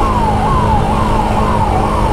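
An ambulance siren wails steadily on a road, its repeating falling sweeps loud and close over a constant roar of traffic, with no talking.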